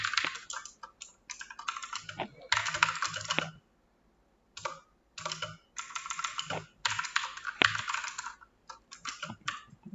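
Close computer keyboard typing while writing WordPress theme code, fast clattering bursts of keystrokes separated by short pauses, with no talking.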